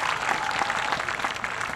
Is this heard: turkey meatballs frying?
no